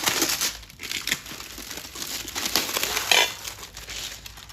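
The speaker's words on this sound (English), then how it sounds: "Gonna go ahead and unbox this." Plastic packaging crinkles and crackles steadily as a boxed 12-inch titanium non-stick pan is unwrapped, with close, busy rustling and a few sharper crunches throughout.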